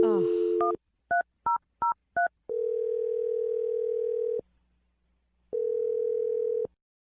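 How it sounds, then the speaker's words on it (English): A telephone number is dialed: a brief ringback-like tone, then four quick touch-tone beeps, followed by a long steady tone that cuts off and returns after a pause, clear and alone. "let's dial the phone number."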